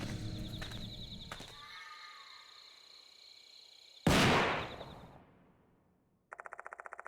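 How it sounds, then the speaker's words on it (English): A single loud gunshot in a video game cracks out and rings away in a long echoing tail across shrine grounds, followed by silence and then a faint rhythmic pulsing. "Suddenly the sound of a gunshot rings out and reverberates through the shrine grounds."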